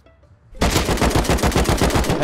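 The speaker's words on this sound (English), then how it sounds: "a guy from excavator is shooting like the ground where I was" Rapid automatic gunfire in the survival video game Rust, starting abruptly after a quiet moment and continuing as a loud, steady burst of close shots with no talk.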